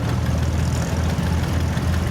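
An antique tractor engine runs at a tractor show parade in Mercer County, giving a loud, steady low rumble that holds throughout.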